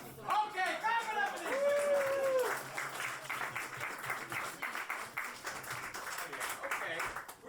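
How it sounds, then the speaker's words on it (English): Applause and cheering from a comedy roast battle audience build up after a spoken voice at the start, then sustained clapping and crowd noise continue throughout. "Okay, clap it up."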